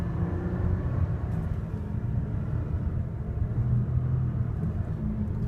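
Front-wheel-drive 2014 Lexus ES350 with a 3.5 liter V6 pulling at three-quarter throttle, heard from inside as a steady, fairly quiet low engine hum with no talking.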